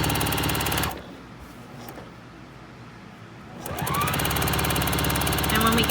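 A Juki sewing machine stitching binding onto a quilt, loud and close: a fast, steady run of stitching, a pause of nearly three seconds, then the rapid stitching starts up again.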